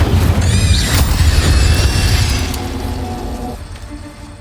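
An Incendio fire spell bursts in a Harry Potter video game, a loud booming blast with crackling roar that decays over a few seconds into a fading rumble.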